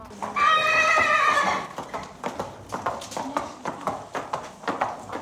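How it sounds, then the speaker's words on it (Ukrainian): Horses evacuated from the Kharkiv region are led out of a transport trailer to a stable; a long loud whinny rings out near, followed by a steady series of hoof clops on hard ground as people talk. "Першою з причіпу для транспортування виводять кобилу"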